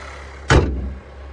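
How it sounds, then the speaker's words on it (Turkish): The hood of a Mercedes-Benz GLB200 4MATIC slams shut in a single close, heavy thud, with a short rattle fading right after. "kaputumuzu kapatalım"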